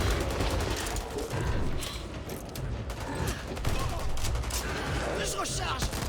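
Rapid gunfire from Back 4 Blood rattles on continuously, dense bursts and mechanical clacks layered together, loud and close, with a player's voice shouting over it.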